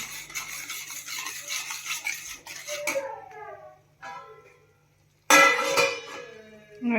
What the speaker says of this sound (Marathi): छान परतायचं आहे अगदी तेल सुटेपर्यंत हे सगळे मसाले परतून घ्यायचे आहेत